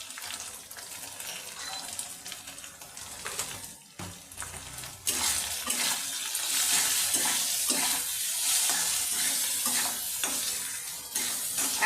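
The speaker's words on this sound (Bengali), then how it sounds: "এই মশলাটাকে আমি 2 মিনিট কষিয়ে নেব" Spice masala for a goat brain bhuna being stir-fried in a pan, a steady close sizzle with scraping stir strokes that grows louder and brighter partway through, with no talking.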